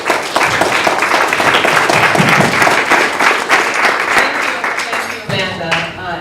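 A conference audience applauds a panel moderator at a science lobby day panel, a dense wash of clapping that carries steadily and then thins toward the end as a voice begins speaking over it.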